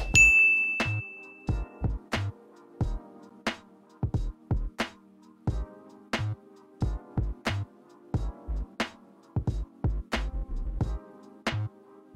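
A bright notification bell dings once at the start, then gives way to a steady run of rhythmic percussive hits and tones.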